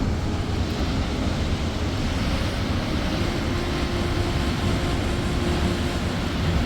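The Ganga river at Surya Kund near Gangotri rushes and plunges into a rocky pool, a loud unbroken roar of falling water filling the whole scene.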